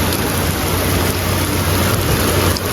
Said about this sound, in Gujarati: ફૂલ વરસાદ ચાલુ થઈ ગયો છે વેળામાં